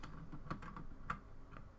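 Sparse, quiet clicks from a computer mouse and keys during play of the horror video game Knock Harder, a handful of separate taps at an irregular pace over soft game background hum, with no talking.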